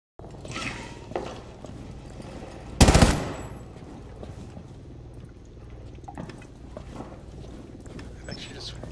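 Gunfire in the Rainbow Six Siege video game: one loud, close burst of shots cuts through steady game background noise, with scattered fainter impacts around it.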